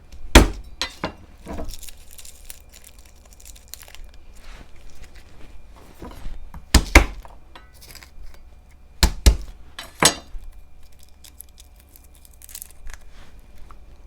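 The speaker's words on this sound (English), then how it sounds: "I'm just going to smash the garlic." Garlic being smashed, several sharp, hard impacts at irregular intervals with sharp clinks, close and loud against a quiet background and no voices.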